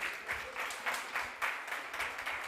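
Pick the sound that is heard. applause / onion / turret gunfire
applause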